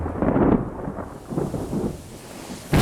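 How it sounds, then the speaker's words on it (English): Low rolling thunder from an approaching prairie storm in Minnesota, several deep rumbles swelling and fading under wind and rain noise outdoors, ending with a sharp loud gust against the microphone. "that's what we call a prairie storm."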